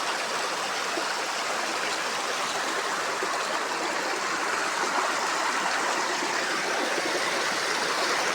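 Steady rushing of a river flowing in Angono, broad and continuous, with a constant babbling texture throughout and no voices.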